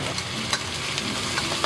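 Ginger and garlic sizzle and fry in leftover fish-frying oil in a wok, a steady close crackling hiss with faint stirring scrapes and no talk.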